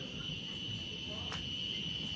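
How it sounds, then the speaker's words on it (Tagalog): Crickets chirp faintly and steadily at night in a quiet Philippine house, a thin continuous high trill over low room hum. "Kuliglig lang maingay dito eh."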